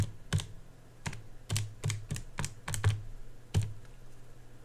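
Numbers keyed into a calculator during a calculus lesson, about eight separate clicky key taps in an uneven rhythm, close and fairly quiet over a steady low hum.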